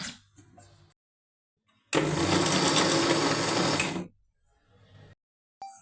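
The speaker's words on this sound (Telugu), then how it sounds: "వీటన్నింటిని మిక్సీ చేసుకుందాం" A mixer grinder whirs loudly for about two seconds, starting and stopping abruptly, with quieter handling noises before and after.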